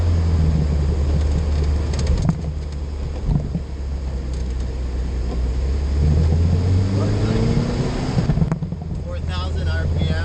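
1978 Triumph TR7 being driven, its engine droning low and steady under heavy wind rush, with a rising rev sweep toward the end; a voice speaks over it.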